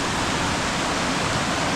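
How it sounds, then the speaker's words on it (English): A creek flows near redwoods at Big Sur on the Pacific coast with a steady, dense rush of water. The sound is loud and close and continuous, with no voices over it. "So we're gonna come down here and check out the creek and see what's doing."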